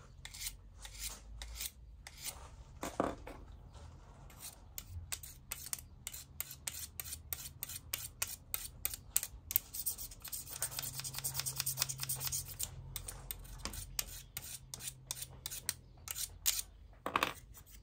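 Small pruning secateurs, freshly cleaned and sharpened, open and close over and over in a quick, irregular run of close, crisp metallic snips and scraping rasps with no voices.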